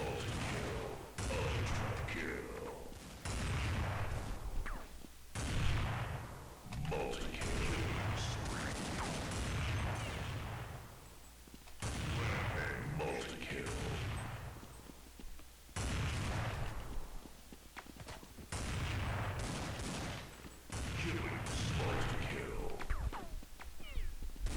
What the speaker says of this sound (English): Here's a couple of shots.